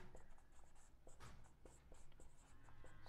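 Pen or chalk writing numbers by hand during a primary maths lesson, a steady scratchy stroke pattern with short pauses between figures, close and fairly quiet, with no talking.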